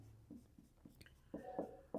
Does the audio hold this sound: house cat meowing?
no